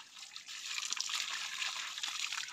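Mountain spring water gushes strongly from an old water source in a steady, close, hissing flow with a faint trickle, running alone throughout.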